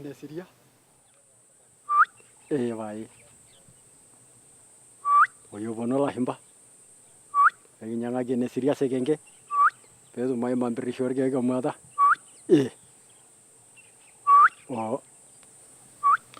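Honey-hunting tribesmen call a honeyguide bird by mimicking it, a human voice making short rising whistles and rapid rolling, chirring trills in separate bursts with quiet gaps between them.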